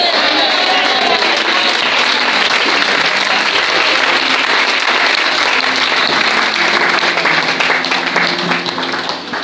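A church congregation applauds, dense sustained clapping from many hands that fills the room loudly and evenly, tapering slightly at the very end, with voices faintly mixed in.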